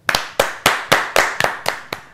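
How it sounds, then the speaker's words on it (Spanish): Eight loud, evenly spaced hand claps close by, like a rhythmic clap from a small group at a New York tribute event, with no talking. "yo quiero un fuerte aplauso"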